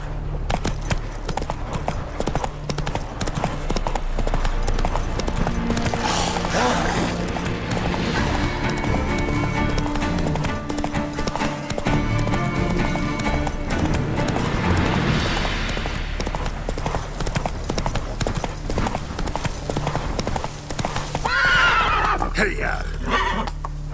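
Roach, a horse in The Witcher 3, gallops with rhythmic clip-clopping hooves and loud whinnies, while a voice talks and urges the horse on over the game's sound.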